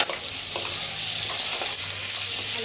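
Ridge gourd seasoned with salt and turmeric fries in a pan with a continuous close sizzling hiss and a few soft stirring scrapes. No one speaks.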